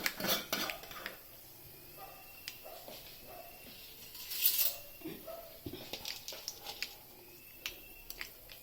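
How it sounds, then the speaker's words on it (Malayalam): Sparse small pops and crackles of mustard seeds in hot oil in a pan, irregular and fairly close, with light clinks of utensils between them and no talking. "കടുക് പൊട്ടാൻ തുടങ്ങിയിട്ടുണ്ട്."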